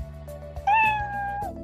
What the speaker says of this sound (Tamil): So you can hear a sound. So the play sound meow அப்படின்னு சொல்லிட்டு கொடுக்கு.